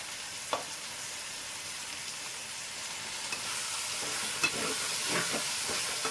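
Tomatoes, mint and coriander frying in a pan produce a steady, loud hiss and sizzle throughout, with occasional soft scrapes of stirring near the end; no voices.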